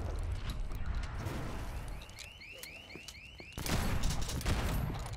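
Dense, continuous gunfire in the zombie game Dead Island 2, loud and close, with a run of rising mechanical whirs in the middle and a heavier volley near the end.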